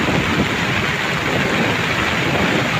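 Strong wind roars steadily with rain pouring at sea, a dense, continuous broadband wash close to the microphone, unbroken and alone with no voices.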